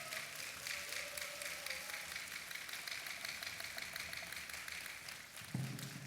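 Audience applause at a late-night church worship and praise service welcoming missionaries, sustained clapping from a crowd that continues steadily throughout.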